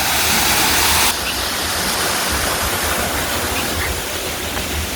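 Water gushes from a running borewell pump in a loud, continuous rush, close and steady throughout with no voices.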